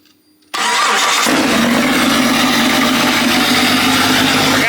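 A brief quiet pause, then a Jeep 5.0 V8 stroker engine cranks and fires up suddenly for its first start, settling into a loud, rough, steady idle with no voices.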